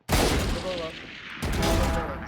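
Rapid gunfire bursts from a Valorant match, two close, loud volleys separated by a brief lull, with talk alongside.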